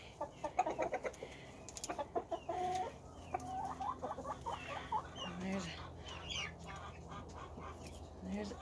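Chickens cluck and chatter nearby, including a black copper Marans hen and roosters, with busy, uneven bursts of clucks and squawks over a low background hum.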